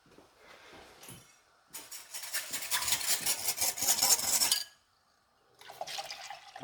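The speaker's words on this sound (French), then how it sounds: "Attends, je vais bien le mélanger avant quand même" Pea juice being stirred into a mixture in a pan over lowered heat, a busy wet swishing and sloshing that swells loud for a few seconds, stops briefly, then resumes.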